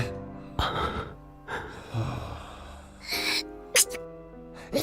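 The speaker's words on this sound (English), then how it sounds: "She sneezed." A short, sharp sneeze bursts out in the Steins Gate 0 game scene, set among breathy gasps and soft vocal sounds.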